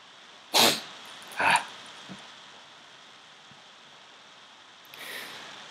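A sneeze bursts out twice in close succession, loud and near, followed by a faint catch and a softer breathy exhale a few seconds later, with no talking.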